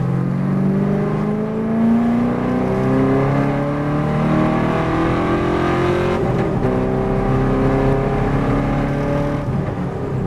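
V8 race car on a track accelerating hard, a loud close engine note with rising rev harmonics that sweep up through the gears, heard from on board without talk.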